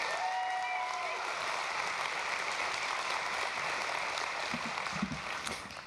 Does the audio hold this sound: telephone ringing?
no